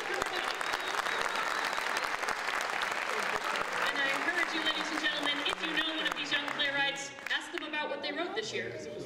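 An elementary school cabaret audience applauds and cheers, a loud sustained wash of clapping with voices mixed in that thins out toward the end as talk takes over.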